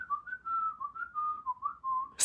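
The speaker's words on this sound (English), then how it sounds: "Son, you cannot whistle indoors." Someone whistles a wavering melody indoors, close and fairly quiet, in a series of short connected phrases with brief gaps between them, ending in a sudden sharp burst of noise.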